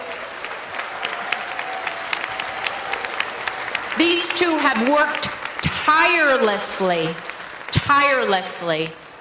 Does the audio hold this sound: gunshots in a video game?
no